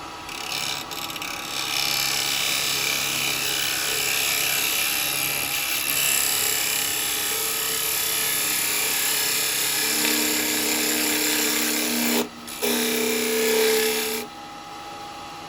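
A detail chisel cuts a mish-mash of wood on a lathe for a jewellery box, giving a steady, loud scraping whir over a motor hum for most of the stretch, with a brief break near the end.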